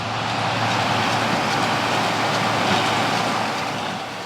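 A John Deere 6920 tractor pulling a Massey Ferguson 2150 baler through straw in a 40-hectare field, with a second baler at work, gives a steady, continuous engine rumble and mechanical roar at moderate distance, with no talk.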